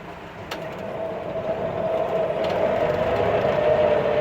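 A 1954 Willys Jeep crawls off-road in low gear, its engine a steady droning hum that slowly grows louder, with a couple of faint knocks and no voices.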